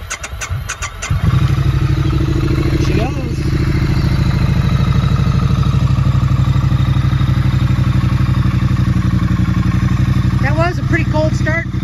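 A 2017 Triumph Street Twin motorcycle engine starts after a brief clatter and settles into a steady, loud, close idle. Brief voice-like tones come through during the run.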